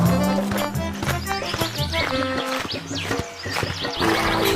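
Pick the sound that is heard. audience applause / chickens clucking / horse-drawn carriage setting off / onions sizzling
horse-drawn carriage setting off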